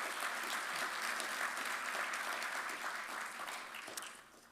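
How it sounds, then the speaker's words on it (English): An audience at a regional government State of the Region address applauds, a dense, steady clapping that holds for several seconds before tapering off at a distance. "That deserves a round of applause."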